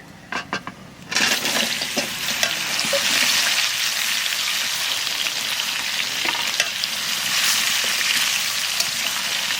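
Raw mangoes drop into a hot pan for a sweet, slightly spicy and tangy mango pickle, a few soft knocks followed by a steady, loud sizzle with scattered clicks of stirring, close by and without talk.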